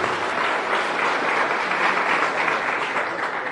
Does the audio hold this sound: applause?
yes